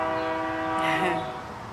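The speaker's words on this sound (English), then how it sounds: "I hope you heard the train." A passing train sounds a loud, sustained horn blast nearby, with rail rumble underneath that fades slightly toward the end.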